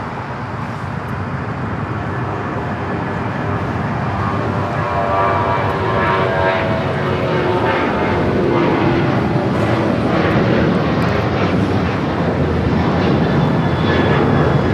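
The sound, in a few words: Alaska Airlines Boeing 737-900ER taking off at LAX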